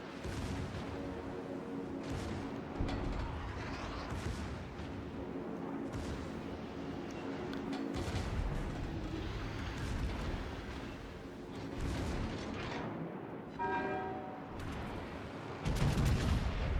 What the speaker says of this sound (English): Right side secondaries are shooting at the Bismarck